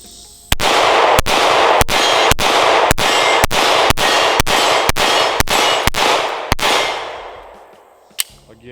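Rapid string of about a dozen S&W Shield X pistol shots, each sharp crack ringing off steel targets in an even, fast rhythm, loud and close, with a lone final shot after a short pause.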